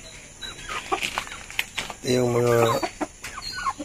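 Chickens, including Chinese and Rhode Island birds, cluck and squawk close by, with one drawn-out, harmonic cackle in the middle while a person briefly speaks over the flock.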